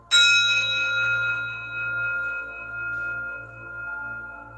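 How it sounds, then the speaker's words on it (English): A gong is struck once to clear the energies during a tarot reading. It rings out with a bright, shimmering metallic tone that slowly fades over several seconds, alone with no talking. "I'm just gonna bang my gong really quick just to clear the energies out also."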